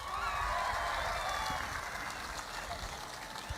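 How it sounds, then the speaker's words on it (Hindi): Faint, distant crowd clapping at a large political rally in Karnataka forms a steady wash of applause, with voices mixed in over a loudspeaker-like hum. "जोर से ताली बजाओ सब एक बार"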